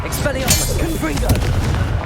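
A spell blast in the video game Hogwarts Legacy: a loud, dense burst of booming impact and crackle over a steady noisy background with game voices.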